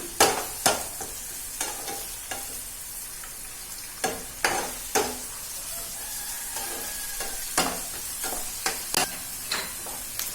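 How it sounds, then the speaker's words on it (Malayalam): Onions sauté with a pinch of salt in a pan for a Kerala-style fish biryani, a low steady sizzle under repeated sharp scrapes and knocks of a spoon stirring in an uneven rhythm. "സവാള ഒന്ന് ചെറുതായിട്ടൊന്ന് വഴന്നു തന്നെ. സവാളയിൽ ഒരു ലേശം ഉപ്പിട്ട് കൊടുക്കാം."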